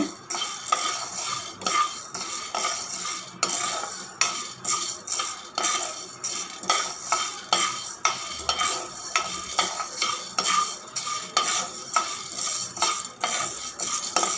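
Urad dal dry-roasting in a pan over a low flame while a metal spoon stirs it, with rhythmic scraping and clinking strokes repeating steadily and close, over a faint dry rustle.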